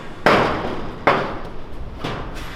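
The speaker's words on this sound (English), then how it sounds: "Hammer it up while I twist it" Hammer blows ring out while framing a garage, two sharp strikes followed by a softer third and a fourth at the end, spaced about a second apart, each landing with a bright clattering crack.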